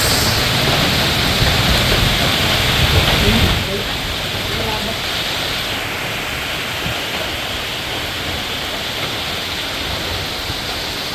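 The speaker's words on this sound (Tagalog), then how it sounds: "Grabe mga lakas ng ulan han eh." Heavy rain pours in a dense, steady hiss, loud and close, easing slightly partway through but continuing without a break.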